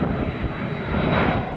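Airplane engine roaring steadily and loudly, a dense continuous drone with a faint high whine, filling the whole moment with no voices.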